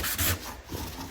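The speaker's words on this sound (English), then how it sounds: "So I'm just going to hang on to the end, sand it one way," Wood sanded by hand with 180-grit sandpaper: a close, soft rasping rub in a couple of short back-and-forth strokes, with no talk.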